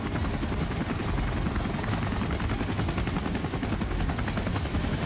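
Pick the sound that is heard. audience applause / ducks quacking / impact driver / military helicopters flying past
military helicopters flying past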